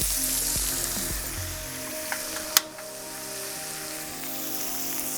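A wagyu onion burger patty sizzles and fries loudly in a pan, a steady close crackle with a single sharp click partway through and no talking.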